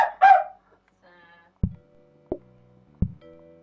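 Cartoonish chicken clucks burst out at the start in a PlateUp! cooking game, followed by three evenly spaced thumps as items are placed, each leaving a short tonal chime.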